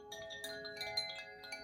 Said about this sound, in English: These are the Koshi chimes